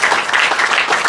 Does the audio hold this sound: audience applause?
yes